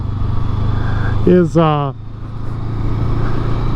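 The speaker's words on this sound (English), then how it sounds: "Now I'm on a Scrambler, Honda Scrambler 500" Honda Scrambler 500 motorcycle engine runs at a steady, even drone while riding, with a voice briefly speaking over it midway.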